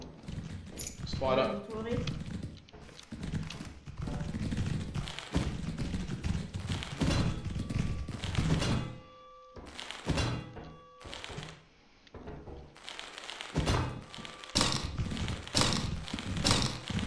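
The thumper monster in the video game Lethal Company thuds irregularly with heavy, dull thumps and taps, fairly quiet and mixed under players talking.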